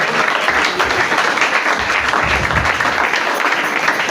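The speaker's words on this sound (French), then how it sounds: "Est-ce que nous pouvons acclamer pour la parole de Dieu?" A church congregation breaks into dense, sustained applause, many hands clapping loudly and evenly throughout, close and filling the room, with faint voices mixed into the crowd noise.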